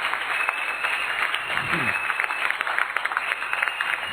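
A church congregation applauds the Lord during a service, with sustained dense clapping from a crowd, and a voice is briefly heard under the applause.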